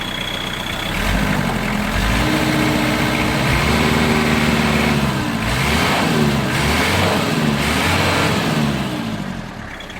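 Kubota GT3 21 hp tractor's engine, loud and close, revving up and down several times over a steady running drone, with no talk.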